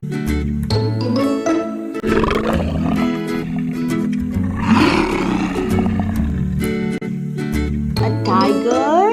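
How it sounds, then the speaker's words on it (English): Tiger roaring over a backing of music, a loud sustained roar in the middle with chimes and jingles around it. "A tiger roars."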